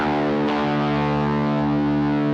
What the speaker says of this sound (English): hit string 6 and string 4, and you'll hear them sound an octave apart